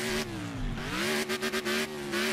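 Car engine revving in the racing game Stuntfest, a steady droning harmonic tone that rises and falls in pitch, with rapid choppy bursts toward the end, loud and close with no talking.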